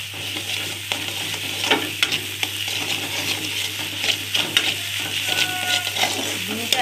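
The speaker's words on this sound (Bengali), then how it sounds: "দেখো ডিমটা ভাজছি আমি" An egg frying in a pan for a Bengali tarka recipe, steady close sizzle with scraping stirs and light clinks of a utensil against the pan, no speech.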